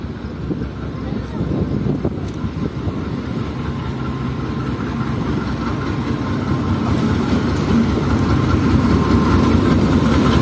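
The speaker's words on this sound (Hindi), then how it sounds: "ट्रेन के थ्रोटल आना शुरू हो चुके हैं" Diesel locomotive number 36029 hauling the Khyber train toward Multan, pulling in: a loud, low rumbling engine and rolling clatter that grow steadily louder, with some voices in the mix.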